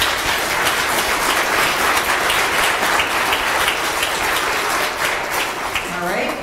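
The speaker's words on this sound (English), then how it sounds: "How about a round of applause for these folks?" Congregation applause in a United Methodist church service in Paynesville, Minnesota, a dense, steady burst of many hands clapping that fills the space, continuing without a break and tapering slightly at the end.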